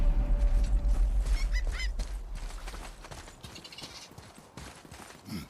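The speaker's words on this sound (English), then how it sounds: "Start by lifting that axle." An axle being lifted in a creaking wooden and metal mechanism in the God of War (2018) video game, with loud grinding and groaning creaks that fade gradually over a few seconds.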